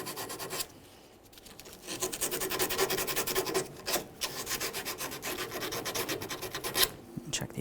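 Rusted tailgate hinge area on the body of a 1998-2011 Ford Ranger being cleaned, a steady close-up rasping scrub with rhythmic strokes and a brief pause early on, heard alone without talk.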